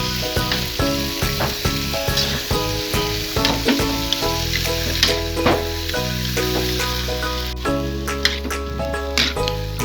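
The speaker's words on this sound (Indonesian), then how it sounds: "Sekarang kita udah masukkan toge, kita aduk-aduk lagi ya, semua bumbu tercampur." Bean sprouts and tempeh sizzle steadily in a hot pan while being stirred, with close, loud frying crackle and scraping stir sounds throughout.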